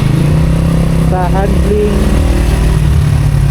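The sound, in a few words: motorcycle engine running while riding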